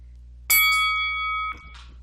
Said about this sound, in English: The instant the bell rang,